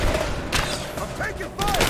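Gunfire bursts from a Rise of the Tomb Raider firefight, a few loud sharp volleys in close succession amid shouted combat voices.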